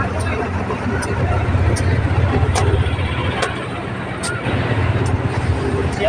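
Diesel locomotive GEA 4531 hauls ordinary train 284 away from platform 2 at a station: a loud, steady engine rumble with faint regular clicks on top, while a voice can be heard over it.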